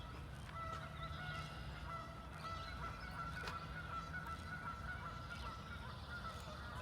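Geese honk repeatedly across a park on a morning walk, a scattered chorus of nasal calls at moderate distance over a soft steady outdoor background.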